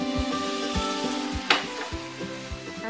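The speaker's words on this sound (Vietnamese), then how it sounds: "Sau đó mình sẽ đổ vô nửa chén nước." Korean chili sauce with chili powder and sugar sizzles and bubbles steadily in a pan as half a bowl of water is poured in, with a brief louder splash midway and faint stirring knocks throughout.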